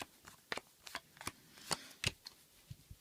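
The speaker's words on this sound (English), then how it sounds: "So let's give this a little shuffle." A deck of Fluxx cards is shuffled by hand in a series of sharp riffling bursts and light taps, close and clear against a quiet room with no talking.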